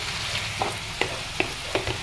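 Broiler chicken fries in a pan with ginger and garlic, a quiet steady sizzle broken by a few sharp clicks and scrapes of stirring.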